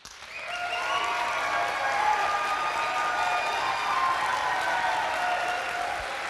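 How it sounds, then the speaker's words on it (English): Sustained applause from a debate audience as political candidates are introduced, a dense steady wash of clapping with some crowd noise, moderately loud and continuous throughout. "You have 2 opportunities to make a round of applause: at the closing of the debate and right now as I introduce your candidates."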